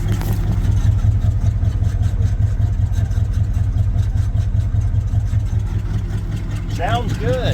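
Ford 460 V8 engine on a rollback truck running at idle, loud and close with a steady, pulsing low rumble throughout and a person's voice briefly near the end.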